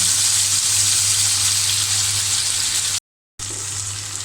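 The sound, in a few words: tilapia fish frying in oil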